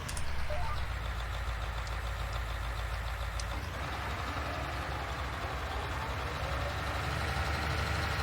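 A mower engine in Farming Simulator 19 drones steadily and loudly throughout, a constant low rumble with dense broadband noise and no pauses.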